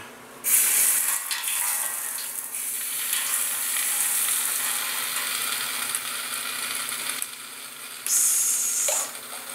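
Arc welding sizzle while a weld bead is laid, a steady crackling hiss running almost continuously for several seconds, close and fairly loud, with brief pauses near the end before the arc strikes again.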